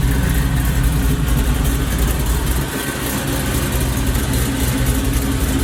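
A supercharged Oldsmobile Cutlass V8 idles close by, a loud, steady, throbbing rumble with a slight dip partway through, heard with no talking.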